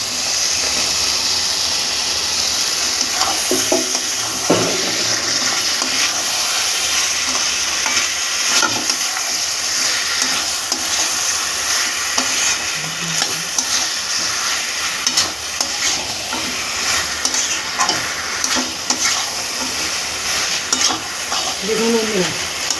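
Fried chicken and potatoes sauté in a spiced pan with a loud, constant sizzle and hiss. Frequent scraping stirs and clatters sound close by, with no talking.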